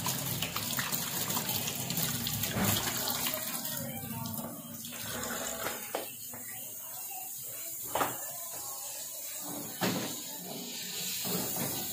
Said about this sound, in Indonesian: Nah ini kalian cuci tangan aja